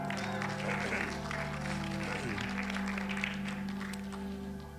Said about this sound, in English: Somebody go ahead and clap right now